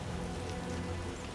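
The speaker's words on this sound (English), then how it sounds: "It's raining so hard" Heavy rain pours steadily in The Witcher video game, a dense, continuous hiss close by with no voices over it.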